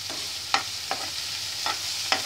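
Green chillies going into a hot pan for vegetable poha, with a steady soft sizzle of frying and a few sharp scraping stirs of a spoon spaced through it.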